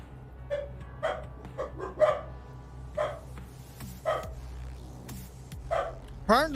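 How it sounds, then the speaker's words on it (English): Dogs barking and yipping indoors in a run of sharp, fairly close barks spread over several seconds, ending in a higher whining yelp. "Apparently the doggos have got some thoughts though."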